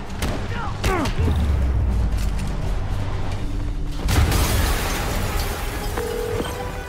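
A rumbling blast goes off in the game Marvel's Spider-Man amid a dense, noisy action scene, with a deep boom near the start and another around the middle under constant background din.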